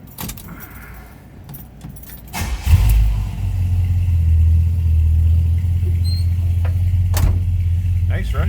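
A 1971 Buick Skylark GS 350 V8 cranks and fires after keys jangle, then settles into a steady, close idle rumble that holds to the end.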